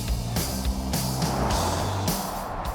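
A Volvo EX90 twin motor Performance Ultra electric car accelerating, giving a steady, loud rush of road and wind noise with low drive whine and no engine note, heard close throughout.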